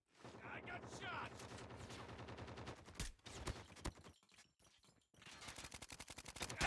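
Gunfire in Call of Duty Mobile with an M4 rifle: rapid automatic bursts of shots, loud and close, a short pause, then more fire, with game voice callouts mixed in.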